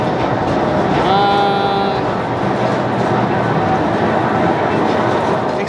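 A train rushes past close by on a railway near the Khewra salt mines in Pakistan, a loud, steady rumble broken by a brief horn-like tone early on.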